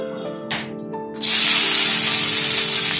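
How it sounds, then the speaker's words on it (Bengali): Cashews dropped into hot ghee in a kadai burst into a loud, steady sizzle after a second of quieter sound, continuing close and strong to the end. "কাজুগুলোকে ঘিয়ের মধ্যে হালকা ভেজে নেব।"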